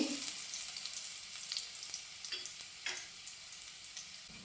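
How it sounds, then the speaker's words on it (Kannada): Ginger fries in hot oil in a pan for a basale greens dal, giving a steady high sizzle that stays quiet and close, with a few soft stirring taps and no voices. "ಇವಾಗ ಇದು ಚೆನ್ನಾಗಿ ಸ್ವಲ್ಪ ಫ್ರೈ ಆಗಲಿ"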